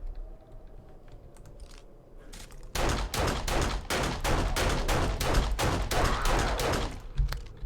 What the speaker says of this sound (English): Around 11 to 12 shots it seems to take.